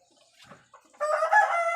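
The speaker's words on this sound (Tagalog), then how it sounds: "Maingay naman yung mga manok ko. Hindi ba yan manok na pula, pero ang ingay." A rooster crows loudly and close by, one long harmonic call after a second of faint rustling and soft clucks, with no talk over it.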